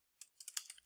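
Quick burst of typing on a computer keyboard while editing a text widget, several rapid close key clicks packed into under a second, crisp and near.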